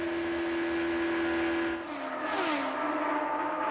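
IndyCar race car in the Indy 400 Indy Racing League race, engine holding a steady high whine then dropping in pitch as it sweeps past, with crowd and track noise underneath.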